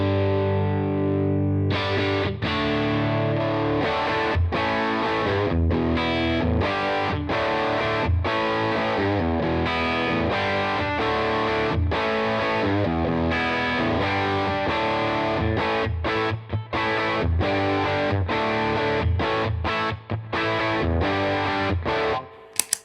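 Electric guitar through an AmpliTube '57 Fender Custom Deluxe amp model with the boost cranked, playing heavily distorted, compressed chords and riffs. It is loud and steady for over twenty seconds and ends with a few sharp stops.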